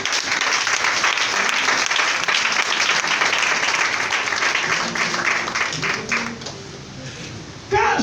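A congregation bursts into dense, sustained applause and cheering in a church service, loud and continuous for most of the stretch before thinning slightly near the end, with voices mixed into the clapping.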